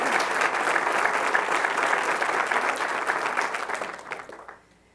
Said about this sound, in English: So I would like to clap for him for two reasons.